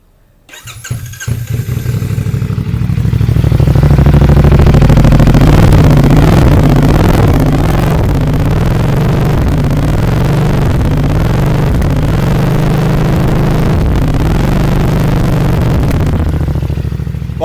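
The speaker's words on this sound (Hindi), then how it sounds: "बहुत ही अमेजिंग साउंड है बाइक का, डीप एंड बीफी साउंड है बाइक का" A 2025 CFMOTO 450SR S with a 450cc parallel-twin engine starts up close by, then its exhaust settles into a loud, deep, steady rumble with revs held high throughout.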